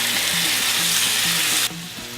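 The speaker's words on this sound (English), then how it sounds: "We'll coat everything, then into the pan with it" Marinated Moroccan chicken coated in honey, marinade and dry rub sizzles loudly and steadily in a hot pan, a close, bright frying hiss that cuts off abruptly near the end.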